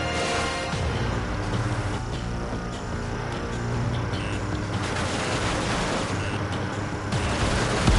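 Heavy, continuous gunfire and explosions over a harbor in the Ace Combat flight game, a dense unbroken barrage of shots and booms lasting throughout, loud and close with no talking.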